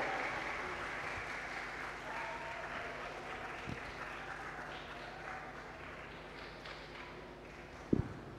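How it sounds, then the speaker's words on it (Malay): Audience applause for a three-member panel at a reading program hosted by Malaysia's national library, a steady, moderately distant wash of clapping that slowly fades, with a couple of sharp knocks near the end. "Beri tepuk tangan kepada ketiga-tiga panel kita."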